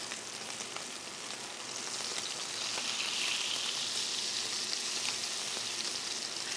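Butter sizzles in a hot pan beside a ribeye steak, a steady close crackling hiss that swells slightly louder and holds without talk.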